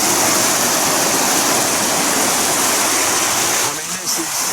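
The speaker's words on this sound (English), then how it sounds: "it's a torrent." Fast-flowing rocky stream torrent on Dartmoor in heavy wind and rain, a loud, steady rushing roar of water close by throughout, with a slight shift in the last second.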